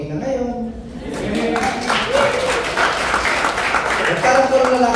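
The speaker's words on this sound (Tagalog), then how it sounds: "At parang puro lalaki ng mga palakpak." An audience at a martial arts academy event applauds, steady dense clapping sustained throughout, with a voice talking over it.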